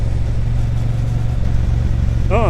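A Triumph Bonneville T120 motorcycle engine in rain mode, throttle opening gently from a low steady rumble, loud and close, with a voice briefly speaking near the end.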